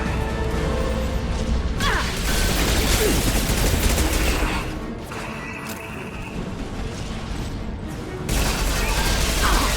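Gunfire crackles through a Mass Effect 2 firefight, with dense, sustained bursts and mechanical clatter that dip briefly midway before resuming, loud and close, with no talk.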